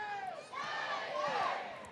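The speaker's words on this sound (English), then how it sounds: "listen to this crowd right now" Stadium crowd at a college softball game between Tennessee and Auburn roars steadily after a home run, a dense sustained wash of cheering and shouting voices with a brief dip before swelling again.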